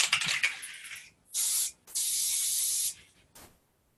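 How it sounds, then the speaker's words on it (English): An aerosol can hisses in a few short bursts, then one longer steady spray, close and crisp, with brief pauses between. "Give it a quick spray now."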